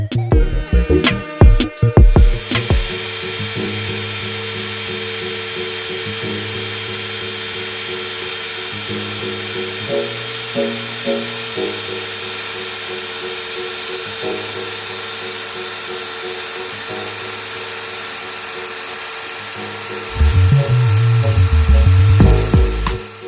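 An Arduino CNC-Shield V3 machine prototype built with 3D-printed parts runs a G-code program, its stepper motors whining in steady tonal hums that shift pitch with each move, after a brief clattering start and a louder, rising buzz near the end.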